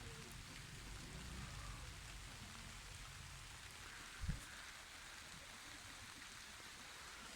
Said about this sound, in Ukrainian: Дощ йде, голуби миються.